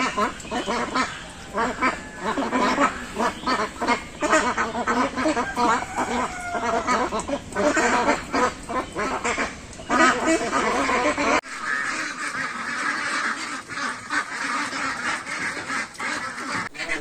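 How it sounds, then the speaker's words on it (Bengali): A flock of Beijing (Pekin) ducks on a farm pond quacking continuously, many overlapping loud nasal calls close by, with a brief quieter stretch later and a voice talking faintly in the background. "কত সুন্দরভাবে পুকুরের পানিতে হাঁসগুলো ঘুরে বেড়াচ্ছে"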